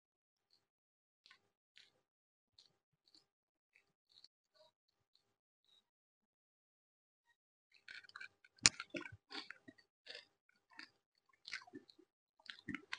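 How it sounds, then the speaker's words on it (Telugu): Gongura macaroni pasta curry being chewed while tasting, a few faint early smacks and then several seconds of close, wet chewing with small crunches, heard alone without talk. "ఇప్పుడు టేస్ట్ చేసి చూద్దాం."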